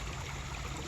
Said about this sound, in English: Here's another section of the Rotary Park Creek.